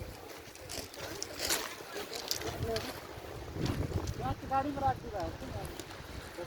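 Wind gusts buffet the microphone beside the sea, with water sloshing nearby and voices talking faintly in the background.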